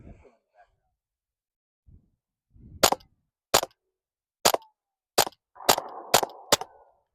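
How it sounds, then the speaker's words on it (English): Suppressed .30 caliber rifle fired with CCI ammunition outdoors: seven sharp, fairly loud reports spaced about half a second to a second apart, each clearly separated, following a few faint handling sounds and breaths. "Okay, so CCI, 970, 30 cal suppressor. Quieter?"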